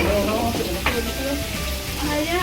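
Fish sizzles and crackles as it fries in a pan in a home kitchen, a steady close hiss with faint voices and household sounds mixed in underneath.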